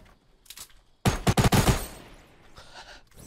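SMG gunfire rattles in a fast burst of rapid shots in a battle royale game, loud and close, with a few fainter shots before it and a decaying echo after.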